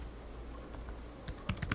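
A few scattered taps on a computer keyboard, faint and close, with a brief cluster of clicks near the end over a low room hum.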